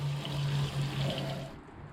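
Water runs and splashes steadily as it is cleared out of RC car off-road tires on an Arena Mojave 8S basher, a continuous close trickling rush that cuts off near the end.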